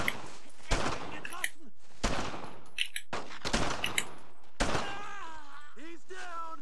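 Gunfire from the World War II shooter Brothers in Arms: Road to Hill 30 during an ambush, several sharp loud bursts spaced a second or so apart, with shouted voices and groans between shots.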